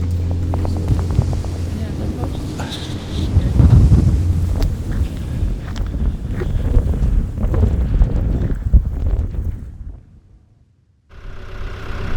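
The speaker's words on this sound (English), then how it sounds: "As the wind surged into powerful gusts" Strong wind buffets the microphone in heavy, roaring gusts for several seconds on a mountain near 3000 m in Cappadocia, Türkiye, briefly dropping to near silence before surging back.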